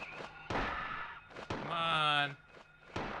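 A kick lands on an enemy in Silent Hill 1 with two dull thuds, followed by a shrill, rat-like squealing cry, while a player talks over it.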